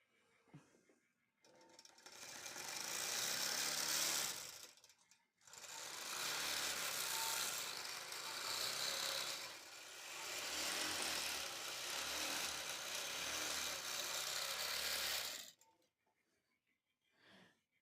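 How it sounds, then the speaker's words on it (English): A longarm quilting machine stitches in long, steady bursts, its fast mechanical whir running close and loud through two extended passes separated by brief pauses, then stopping. "I'm going to sew this area down and up."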